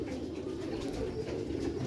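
Sialkoti Butera pigeons cooing in a continuous low, throaty murmur, several birds blending together at moderate distance without pauses.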